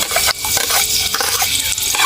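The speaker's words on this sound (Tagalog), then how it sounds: "Igisa muna tayo ng sibuyas at bawang." Onion and garlic sauté in a hot pan, a close sizzle broken up by repeated scraping stirs of a utensil against the pan.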